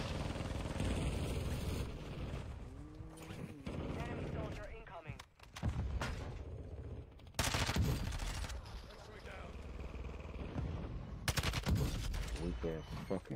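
Rapid bursts of gunfire from a battle royale video game play from a TV, loud and repeated in clusters, with excited voices talking over them.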